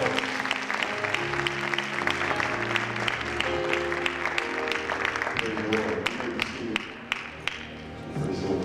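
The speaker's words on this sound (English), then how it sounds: "clap your hands and give God praise" A church congregation claps hands in praise, sharp rhythmic claps ringing over sustained organ-like chords and voices, steady throughout and moderately loud.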